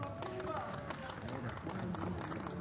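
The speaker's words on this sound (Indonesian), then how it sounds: "Kita berikan tepuk tangan sekali lagi." Crowd applause for boxers at a boxing match, dense steady clapping and cheering that runs through the whole moment beneath a loud announcer's voice.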